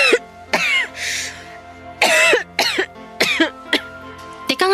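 A woman coughs repeatedly in loud, harsh bursts, with several separate coughs and throat-clearing sounds spread across the moment, close and alone without talk.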